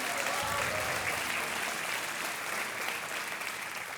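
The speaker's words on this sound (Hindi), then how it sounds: "तालियां बजती रहनी चाहिए" A studio audience at a televised quiz show applauds steadily, a dense wash of clapping throughout with no voices over it.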